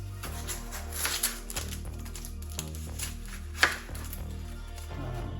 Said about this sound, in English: And then what I'm going to do is chop up my onion.